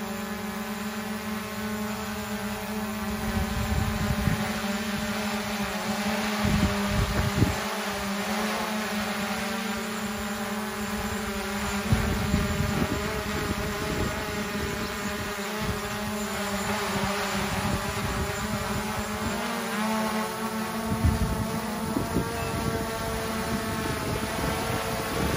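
A DJI Mavic Air 2 drone returning home, its steady high propeller whine and buzz holding constant throughout with occasional low bumps of handling or wind.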